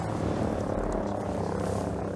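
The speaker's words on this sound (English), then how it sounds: "Oh, chopper." A helicopter's rotor thumps and drones steadily at moderate volume in Ghost Recon Breakpoint game audio, with no talking.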